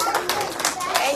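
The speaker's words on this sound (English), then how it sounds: "Clap for me." Several quick hand claps sound close together indoors at home during the Christmas holidays, mixed with a voice.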